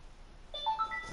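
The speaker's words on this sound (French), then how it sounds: "Ah, ça c'est mon téléphone." Short, faint mobile phone tones interrupt a basketball video game session, a few brief pitched beeps stepping upward in quick succession over a quiet background.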